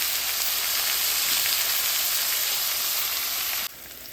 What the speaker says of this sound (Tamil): அந்த வெங்காயம் நல்லா கலந்து பொரிஞ்சிட்டுது